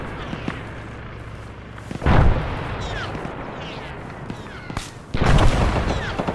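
Mortar rounds land in the military video game Arma, giving two heavy, deep booms a few seconds apart over a constant rumble of distant combat and scattered gunfire.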